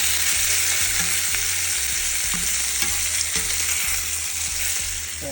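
Short ribs searing in a hot skillet give a steady, loud sizzle and crackle with occasional soft knocks as pieces are turned, continuous throughout with no talking.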